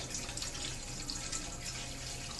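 Tap water running steadily into a chafing dish during a cleaning routine, a continuous close hiss of filling water with no talk.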